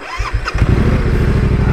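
A Yamaha Ténéré 700 motorcycle engine cranks with a few quick starter turns, then fires and settles into a loud, close, steady throbbing idle.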